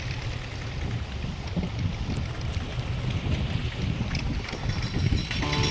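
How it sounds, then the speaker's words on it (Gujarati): Fishing boats pulling into a harbor at Ghoghla near Diu, heard as continuous low engine and water rumble mixed with wind noise on the microphone, steady and fairly loud throughout. "જો આ 2 હોડીઓ આવી ગયું છે."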